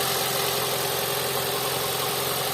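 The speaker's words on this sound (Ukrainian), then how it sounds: "Ось і двигун скинув обороти." Engine bay of a 2009 Mazda 6 with a 2.0 petrol/LPG engine and manual gearbox at idle, revs settling down into a steady, even hum with a faint regular tapping, heard close and alone.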